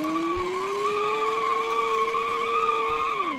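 An ambulance in BeamNG drive skids with a loud, sustained tire squeal that holds a steady pitch for about three seconds, then drops away as it ends, over a low engine rumble.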